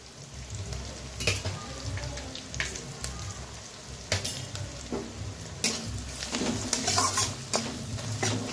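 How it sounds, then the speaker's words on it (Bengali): Turmeric, Kashmiri chili, coriander and cumin powders fry in a pan for a katla fish head and bean seed curry, with a steady sizzle under repeated scraping stirs and occasional utensil knocks, close and moderately loud. "তো দিয়ে দেব হলুদ গুঁড়ো, কাশ্মীরি লঙ্কার গুঁড়ো, ধনের গুঁড়ো, জিরের গুঁড়ো।"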